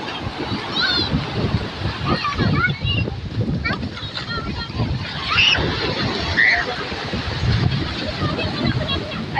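Surf rolls in and breaks along the beach shore at Banda Aceh, with wind buffeting the microphone and a voice talking over the washing waves.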